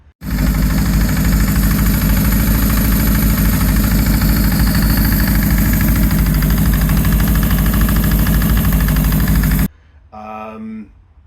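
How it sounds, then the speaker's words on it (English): Suzuki Katana motorcycle engine running with a terminal knock, a loud continuous idle with a heavy repetitive clanging beat close up, cutting off suddenly before a brief, quieter sound at the end. "The engine had what sounded like a bit of a terminal knock."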